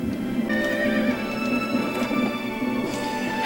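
A horse neighs loudly over clip-clopping hooves in a Japanese video game, with the whinny's tone sustained for several seconds and faint hoof taps beneath it.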